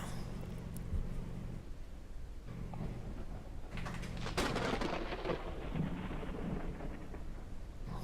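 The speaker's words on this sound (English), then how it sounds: "While the storm rages on." A thunderstorm in the video game Forever Skies rumbles quietly under steady rain, with a louder crack and rolling boom swelling midway before fading back to a low wash.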